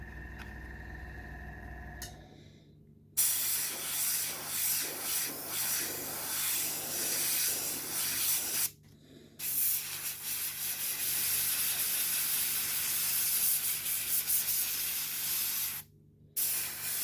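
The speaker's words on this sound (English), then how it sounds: "it might be a cheap airbrush, but it sprays well" A cheap hobby airbrush sprays paint onto a 1/35 scale Takom StuH.42 assault gun model, giving a steady close hiss in three long bursts separated by brief pauses, with no talk.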